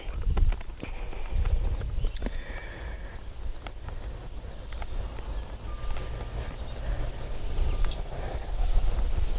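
A saddle horse walking outdoors, its hooves clip-clopping in a steady, moderately close rhythm over a constant wind rush, with no voices.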